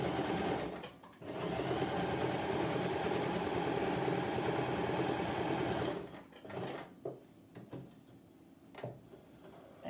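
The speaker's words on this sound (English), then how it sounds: "We're just sewing straight down that side of the foot." A sewing machine runs a straight seam down the side of the foot of a pair of hosen in one steady whirring burst, then stops and gives a few short stitches and clicks.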